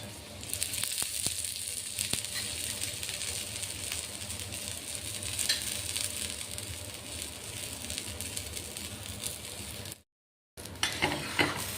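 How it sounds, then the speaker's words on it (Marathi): Oil sizzles steadily around a wheat-flour cheese paratha frying on a pan, a continuous close crackle with small pops, then a brief silence and the sizzle resumes. "साईडने थोडं तेल सोडतोय आपण आता."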